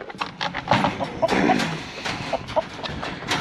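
A rooster gives a string of short, close clucking calls in uneven bursts over a few seconds, with no talking.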